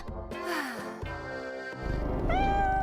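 A house cat meowing, several plaintive, tonal meows in quick succession, close and clear, with a longer rising meow at the end over some background noise.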